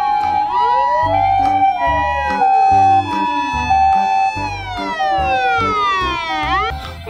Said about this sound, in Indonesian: Ini mobil ambulan teman-teman.